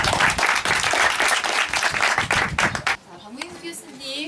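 Audience applauding after a lecture at a Donghak history seminar, brisk dense clapping for about three seconds, then stopping as a voice speaks.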